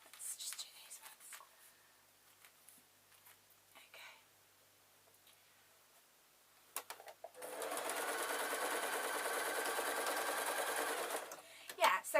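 A sewing machine stitches a layer of cloth onto a latch hook rag rug, one sustained steady run of close stitching lasting several seconds after quieter rustling and handling sounds, with no talking.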